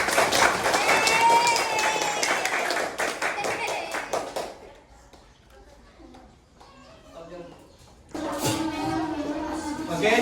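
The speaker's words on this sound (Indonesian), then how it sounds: "Oke, tepuk tangan untuk kelompok kuning." Classroom applause for the yellow group: a loud burst of clapping from students, mixed with voices, lasting about four seconds, then a quieter stretch before noisy clapping and chatter return near the end.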